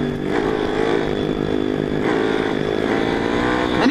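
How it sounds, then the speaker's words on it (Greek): A motorcycle engine revs hard and drops back, showing quick, twitchy throttle response. The sound is loud and close, with a buzzing, raspy tone that rises and falls without a break and no voices. "Κοίτα εδώ, ανταπόκριση που έχει τον γκάζι."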